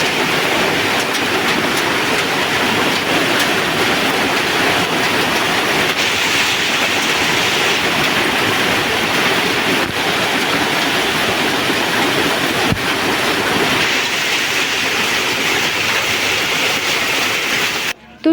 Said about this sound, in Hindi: बारिश क्या, बड़े बड़े ओले आ रहे हैं।